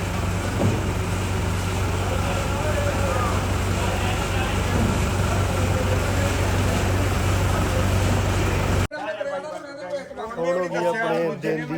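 Old tractor engine running near a field, a loud continuous low diesel rumble that stops abruptly near the end, after which a voice talks.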